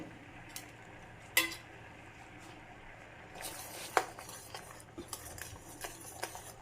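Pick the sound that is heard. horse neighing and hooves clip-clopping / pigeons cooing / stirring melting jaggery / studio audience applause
stirring melting jaggery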